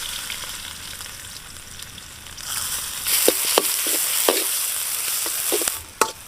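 Onions hit hot oil and sizzle loudly, the frying swelling into a bright crackle with occasional clinks of a spoon stirring.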